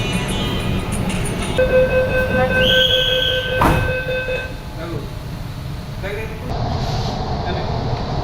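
Train rumbling along rails with a steady heavy roll, sharp wheel squeals rising partway through and a long screech that fades, close and loud, as people talk in the carriage.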